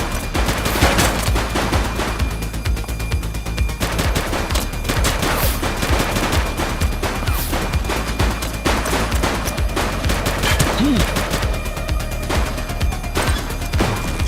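Dense, continuous gunfire in the police video game The Precinct, with rapid automatic bursts and overlapping shots in a loud, sustained firefight.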